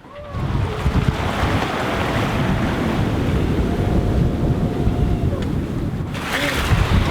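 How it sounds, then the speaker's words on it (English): Ocean waves wash around a sailboat under sail on the Indian Ocean, giving a steady, loud rushing surge mixed with gusty wind noise on the microphone. "And I'm gonna show you the waves now."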